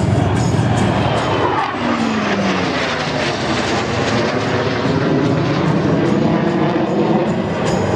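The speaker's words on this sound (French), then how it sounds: "C'est un avion anglais à réaction." A loud British jet aircraft, a Hawker Hunter, roars past close by at an air show, its engine noise filling the air with a sweeping whine, faint crowd murmur beneath.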